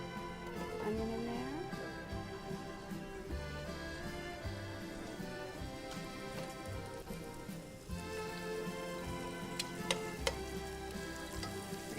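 Onions sautéing in olive oil in a pan holding browned bits left from shrimp, a steady close crackling sizzle with occasional stirring, no talk.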